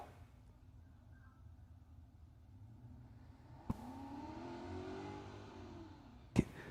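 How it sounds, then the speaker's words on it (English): A drag racing car engine in the burnout box at a no-prep drag racing event, heard far off and faint as a steady engine drone that swells into a sustained rev, broken by two sharp loud bangs. "I can hear the car in the burnout box"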